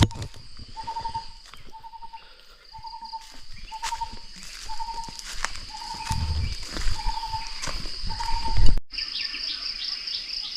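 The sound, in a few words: bird call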